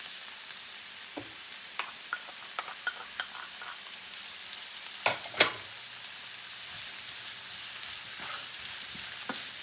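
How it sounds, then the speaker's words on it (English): Frozen vegetables fry in a pan for chicken fried rice with a steady soft sizzle and scattered small pops and crackles, plus two sharp clatters partway through. "we're going to let this go ahead and fry for about a good 2 minutes at least"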